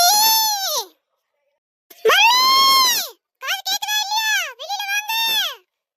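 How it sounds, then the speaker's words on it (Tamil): A cartoon girl screams loudly in several long, wavering wails separated by short silences, the shrill cries rising and falling close up. "இடி இடிக்கலடா என் தங்கச்சி தான் கத்துறா"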